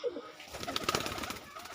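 Pigeons in a home loft coo softly and close by, breathy low calls over faint rustling, with no voices.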